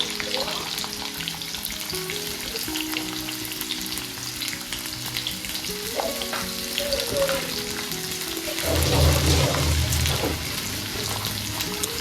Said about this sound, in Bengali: পেঁয়াজ আলুটা বেশ দিয়ে একটু ভাজা ভাজা করে নেবো